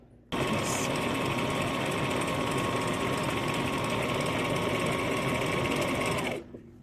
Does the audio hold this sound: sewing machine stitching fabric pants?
yes